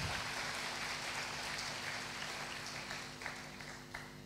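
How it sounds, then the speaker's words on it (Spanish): A church congregation claps for the Lord during a Spanish-language sermon, a soft, distant wash of many hands that gradually thins out with a few sharper claps near the end. "Denle un aplauso fuerte al Señor"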